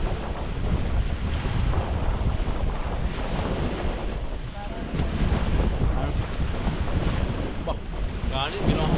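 Sea waves and strong wind on a beach in Punta Pinil, Philippines, a steady loud roar of surf and gusts buffeting the microphone throughout.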